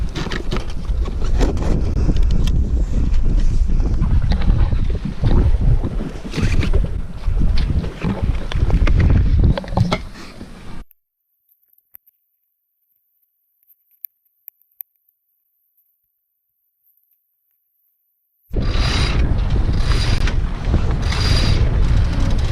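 Strong wind roars against the microphone while a boat sails off the Alaska Peninsula, loud and steady, then stops abruptly into near silence for several seconds before the gusting wind returns just as loud.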